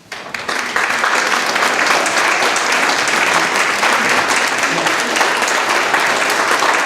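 A church congregation at a United Methodist service in Hebron, Indiana applauds standing veterans, loud sustained clapping that swells in after a brief start and holds steady throughout.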